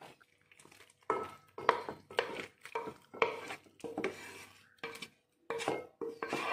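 A utensil scraping sautéed mint mixture out of a cooking pan into rice, heard as repeated short metallic scrapes and clinks in an irregular rhythm, close and moderately loud with brief pauses between strokes.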